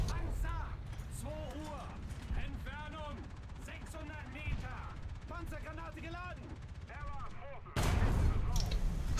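A Tiger H1 tank cannon fires in War Thunder, a sharp blast near the end rising over a steady engine rumble and mechanical clatter, with someone speaking throughout.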